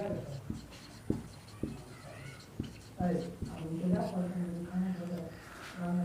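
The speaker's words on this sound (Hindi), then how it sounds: "चलिए यहाँ पे हम लिख देते हैं आयत, रेक्टेंगल।" Writing a word on a board during a Hindi-language maths lesson on area and perimeter produces a few sharp tapping and scratching strokes at first. A voice then talks steadily over the rest.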